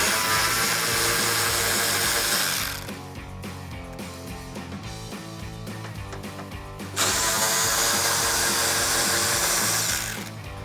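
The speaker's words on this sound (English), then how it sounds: "So I'm going to take my 10mm socket on my ratchet and remove those." Whirring 10mm socket tool spinning off bumper nuts on a 2005-2009 Ford Mustang, loud bursts at start and end with a quieter mechanical stretch between, close up.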